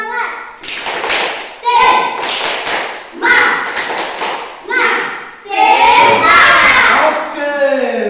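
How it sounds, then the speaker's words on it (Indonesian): A group of people stand and do a rhythmic spirit clap, tepuk semangat, during an academic supervision coaching session. Loud, close bursts of patterned clapping and thumping alternate with voices chanting and shouting along. "Semua berdiri, tepuk semangat dulu."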